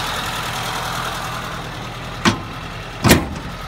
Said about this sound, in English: Little Suzuki engine,